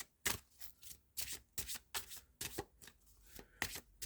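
Mystical wisdom oracle cards being shuffled by hand in a series of crisp riffling bursts, each a short flurry of papery slaps separated by brief pauses, close and fairly quiet with no talk.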